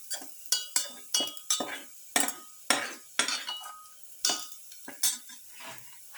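A metal utensil knocks and scrapes against a pot while sautéing for a pepper garlic beef stew, making a dozen or so sharp, uneven clanks with little sizzle beneath.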